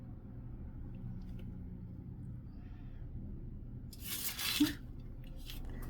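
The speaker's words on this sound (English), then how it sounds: "That was my fan blowing my tin foil." Quiet low hum, then a short burst of crinkly rustling near the end, like foil fluttering in moving air.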